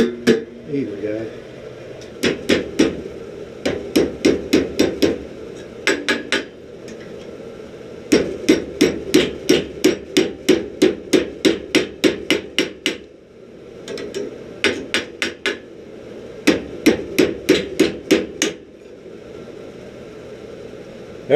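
Hammer blows ring on hot steel against an anvil while forging a chain link, falling in quick bursts of ten or more sharp metallic strikes separated by short pauses, loud and close, with some talk in between.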